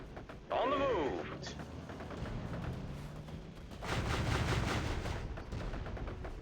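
Gunfire and artillery in the World War Armies video game, heard as dense rumbling battle noise with sharp bursts and a loud swell toward the end, under voices of the game's soldiers.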